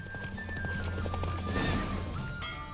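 A horse gallops through a race in The Witcher 3, its hooves clip-clopping under a dense bed of game music and effects. The pace speeds up amid the noise, and a brief neigh rises toward the end.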